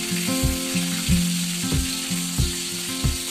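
Eggplant fries in oil over a medium flame with a constant close sizzle, broken by a few rhythmic scraping knocks of stirring, no one talking.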